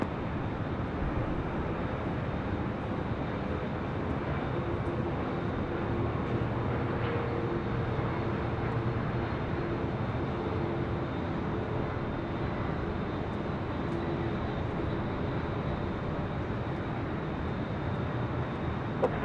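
Aircraft at LAX airport, a continuous low rumble and roar of engines, steady and fairly distant throughout with no clear rise or fall.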